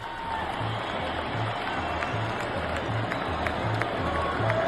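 Stadium crowd applauding Palmeiras player Rafael Veiga, a distant wash of clapping and crowd noise under a pulsing low rumble, with a few faint voices in the mix.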